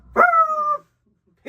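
A human voice imitates a dog's bark with a single drawn-out, yelping woof, loud and close, followed by silence and the start of another sound.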